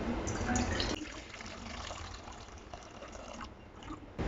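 Water pours into a kadhai pan as a light trickling stream with splashes and brief drips, heard at moderate level under background noise.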